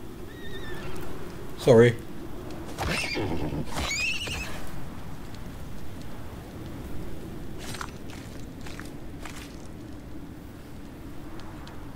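A baby horse in the survival video game Icarus gives a brief whinny, with soft hoof clops and ambient game sound around it, while a person talks over it.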